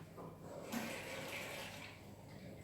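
A kitchen sink tap runs briefly to measure a tablespoon of water for a salad dressing. The hiss of flowing water is faint and steady, rising slightly partway through, with no talk.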